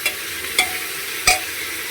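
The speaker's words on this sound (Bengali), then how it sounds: "যা যা সবজি কেটে রেখেছিলাম, তো সেই সবজিগুলো দিয়ে একটু নেড়ে চেড়ে নেব" Chopped vegetables stirred in a pan for quinoa khichdi, a few sharp scraping strokes of a spoon against the pan at irregular intervals over a faint background sizzle, no talking.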